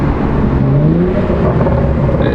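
A BMW F30 335i with a catless downpipe on downshifts produces a loud, droning exhaust whose pitch sweeps up as the engine revs between gears, heard from close inside the car with no talking.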